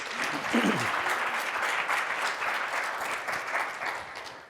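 Applause from the audience at a product marketing summit in Austin after a talk, dense clapping that stays strong throughout and tapers slightly at the end, with a voice briefly audible underneath near the start.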